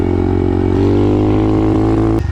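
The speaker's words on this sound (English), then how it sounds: "exhaust sounds pretty similar too, which I like" Loud, close dirt bike engine idling with a low rumbling exhaust note that rises slightly, then cuts off abruptly near the end.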